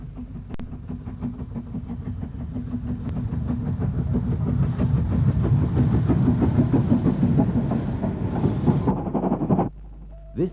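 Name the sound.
BR Standard Class 4 steam locomotive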